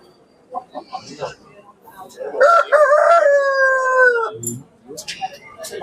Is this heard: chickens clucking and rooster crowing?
yes